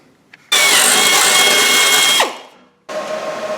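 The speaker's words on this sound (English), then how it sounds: "I'm going to shoot a hole through the pan and weld the bung in right there" A power drill boring a hole through the steel pan of a TH400 transmission: a loud, steady whine that runs about two seconds and winds down, followed by a second burst of drilling, close by.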